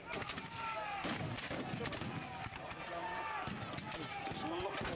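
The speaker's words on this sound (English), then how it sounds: "Although the Union artillery is a long way off on that hill, because they're rifled guns" Union rifled artillery fires at an American Civil War reenactment at Kirby Hall, heavy booms from distant guns rolling out repeatedly while a narrator talks over them.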